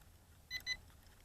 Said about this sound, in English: double beeps, that means we are done with the compass calibration